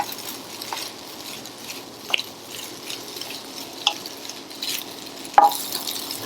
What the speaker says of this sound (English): Mix this in very, very well.